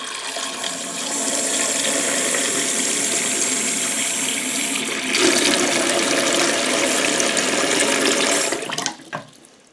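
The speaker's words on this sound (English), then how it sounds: "now we're going to put some cold water on here." Cold tap water runs hard onto hard boiled eggs in a pot, a loud steady rushing stream that grows slightly stronger midway before the tap is shut off near the end.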